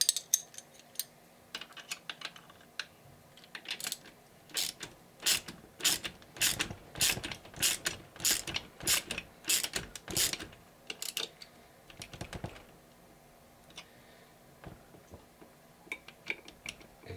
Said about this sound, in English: So we're going to tighten that thing up.